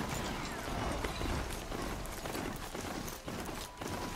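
Galloping hoofbeats of a horse mount in Horizon Zero Dawn, a steady dense clip-clop running throughout over a busy game soundscape, fairly loud and continuous with no talking.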